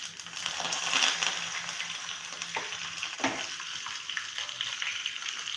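Sesame seeds, curry leaves and green chili crackle in hot oil for a tempering, a bright dense sizzle that swells at first, then settles with scattered pops and a light stir, close by.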